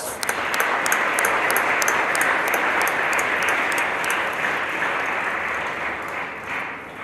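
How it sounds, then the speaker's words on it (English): Sustained crowd applause at a high school football awards ceremony, dense and steady clapping throughout, fading slightly toward the end, with a few sharp high pings over it. "Let's give them a round of applause."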